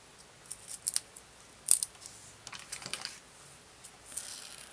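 Scissors trim a foam piece for a papercraft card, making a few quiet, close snips and clicks scattered at an uneven pace, with no talking.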